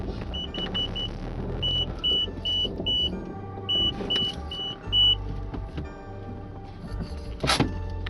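Car reversing toward a wall while parking, with a low engine rumble and repeated short electronic parking-sensor beeps in quick rhythmic groups, close inside the cabin.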